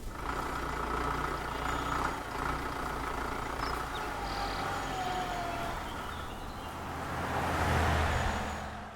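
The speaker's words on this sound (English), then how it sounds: "now we have our truck pass by" A truck pass-by effect from the Krotos Max sound library, a steady low rumble with broadband road noise that swells and peaks near the end as the vehicle draws closest, heard alone without talk.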